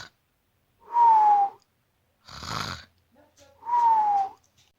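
A person snores in two long, whistling breaths with a falling tone, loud and close, separated by a short burst of breathy noise.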